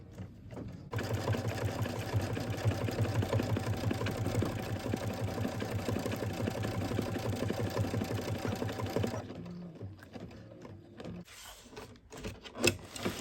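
An embroidery machine stitching down topping over a design, running as a steady, fast mechanical whir and clatter for about nine seconds, then stopping and leaving quieter handling noises and a few clicks.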